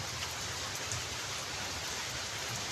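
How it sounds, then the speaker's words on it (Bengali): A heavy monsoon downpour near the Jalpesh temple, heard from a toto stand: a steady, dense hiss of rain pounding surfaces, close and unbroken throughout. "আর এখানে মুষলধারে বৃষ্টি হচ্ছে, দেখো তোমরা কি আওয়াজ বৃষ্টির।"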